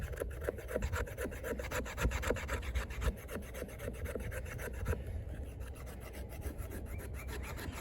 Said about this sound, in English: Now I want to test out the spine on this, on a piece of wood.